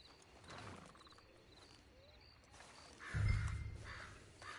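Horse hooves clopping in a video game, faint and intermittent against outdoor ambience with bird calls, followed by a heavier low thump partway through.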